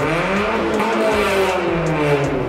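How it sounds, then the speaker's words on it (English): A 2008 Mazda 3 with a loud, ripping aftermarket exhaust drives by, its engine note rising and falling through a couple of gear changes, loud and close, with no talk. "my exhaust used to rip real hard. I'm going to put a clip above how my car used to do and how it used to sound when I was going by"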